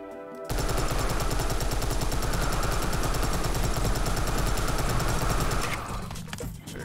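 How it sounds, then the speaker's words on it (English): A Tommy gun firing in Serious Sam, one loud sustained rapid-fire burst of about five seconds that stops abruptly and fades into quieter noise. "Tommy gun."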